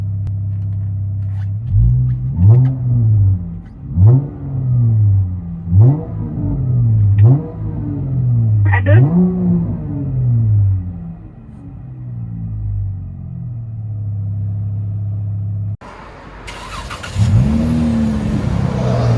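A 2013 Chrysler 300 V6 with Flowmaster Super 10 dual exhaust is heard from inside the cabin. Five or six rising revs give way to a steady low drone, and a rush of road noise follows near the end as the car pulls away.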